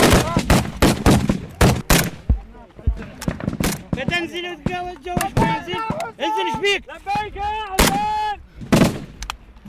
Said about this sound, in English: These guys are also using heavy machine gun dushkas and RPGs against ISIS positions.